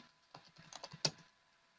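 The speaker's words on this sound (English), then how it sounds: "So I'm typing" Computer keyboard typed on quietly in a string of soft, uneven key clicks, ending in one sharper keystroke, close and alone in a Linux command-line lesson.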